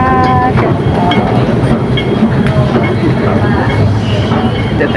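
Steady rumble and rhythmic wheel clatter of a train riding on rails in Hong Kong, heard from inside the carriage, with faint murmur and squeaks running beneath.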